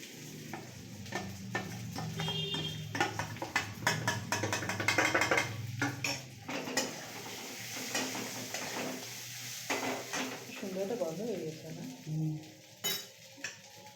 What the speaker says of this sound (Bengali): এবারে যে চালটা মাখিয়ে রেখেছিল দেখলেন ঘি হলুদ আদা বাটা আর কাঁচা লঙ্কা বাটা দিয়ে সেটা মা এবার দিয়ে দিচ্ছে